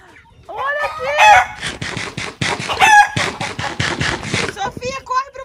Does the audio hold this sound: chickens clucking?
yes